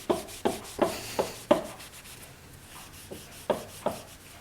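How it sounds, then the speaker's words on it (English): Steel wool deburring a freshly grooved, machined engine part in an old steam-powered machine shop, heard as a series of short, close scratchy rubbing strokes in an uneven rhythm with brief pauses between bursts. "And we can take a little steel wool and kind of deburr it."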